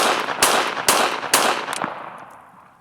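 Three sharp, loud pistol shots from a Ruger LCP II with dirt in the trigger, fired close at a steady rhythm about half a second apart, then a fading echo.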